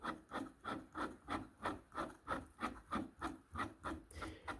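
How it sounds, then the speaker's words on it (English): Wax rubbed by hand onto the bolt threads of a 3D printed clamp, heard as about a dozen steady, evenly spaced rasping strokes, close and quiet, with no talking. "I'm going to apply some wax to the threads."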